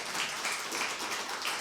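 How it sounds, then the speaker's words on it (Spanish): Applause from the congregation at a church service, a steady wash of many hands clapping at moderate loudness, with no talk over it. "Un fuerte aplauso también para ustedes."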